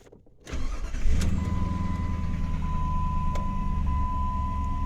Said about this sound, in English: we're going to start this vehicle